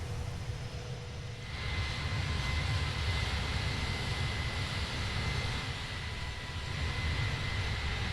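Simulated Airbus A310 jet engines in Microsoft Flight Simulator 2020, a steady broad roar with a faint whine that swells slightly after the first second and holds constant, with no voices.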